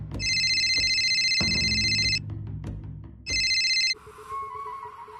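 A telephone ringtone trills in two loud electronic bursts separated by a short gap, the call going unanswered, with faint background noise between rings.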